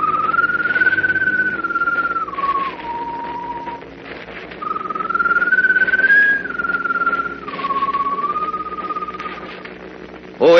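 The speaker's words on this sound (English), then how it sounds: "the strange glowing bird perched on top of the mast whistles mournfully" A mournful whistle for a glowing bird on a ship's mast in an old-time Superman radio drama, two long wavering tones that dip and drop, over a steady humming background.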